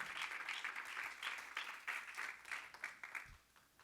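A church congregation claps steadily and fairly loudly for several seconds, the applause rising and falling before tapering off near the end.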